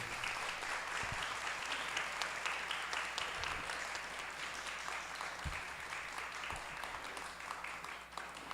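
An audience at a literary talk applauds the writer Raimundo Carrero, a dense, steady wash of clapping that runs unbroken for several seconds at moderate distance, with a few louder individual claps and no speech.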